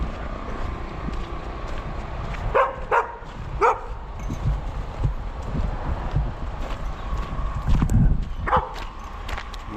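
Three excited dogs on a walk in Maine bark in short bursts, with a few yips and excited whimpers mixed with shuffling and footsteps close by.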